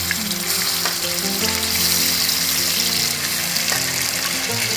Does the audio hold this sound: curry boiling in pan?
yes